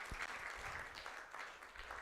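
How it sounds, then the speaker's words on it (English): An audience at a Gita Jayanti festival recitation gives a steady round of applause, faint and somewhat distant, with no talking over it. "So I didn't have to ask you to give a big applause."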